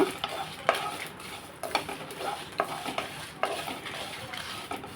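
Dried red chillies and vegetables stir-fried over a low flame for a vegetable curry, a steady close sizzle broken by repeated scraping stirs and light clinks of a spoon against the pan, with no voices.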